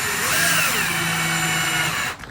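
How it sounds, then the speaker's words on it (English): A power drill drives 4x16 bolts into a Traxxas Slash 2WD RC car chassis, one sustained whirring run with rising and falling motor pitch, close and loud, ending abruptly. "Just run these ones home with the drill."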